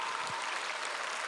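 Steady, even applause from a crowd at an outdoor prayer rally for peace and reunification at a war memorial plaza in Seoul, a dense continuous wash of clapping with no voices.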